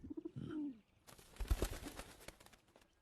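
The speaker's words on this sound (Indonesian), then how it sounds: "ada seekor burung hitam yang memata-matainya" A black bird calls in an animated donghua, giving a few soft cooing notes, followed by a busier stretch of rustling and fluttering sounds at moderate volume.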